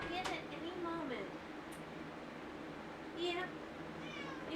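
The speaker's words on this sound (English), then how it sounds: "My cat is sobbing." A male cat meows repeatedly in a plaintive, crying way, several drawn-out calls at close range, with people talking in the background.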